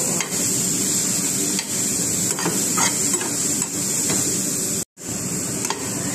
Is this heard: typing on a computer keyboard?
no